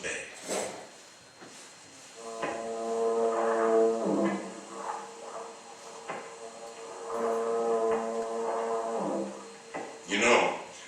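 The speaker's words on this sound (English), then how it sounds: "that symphony of foghorns booming across the bay" Foghorns boom across San Francisco Bay near the Golden Gate: two long, low, droning horn blasts sound at a distance, overlapping with a voice talking.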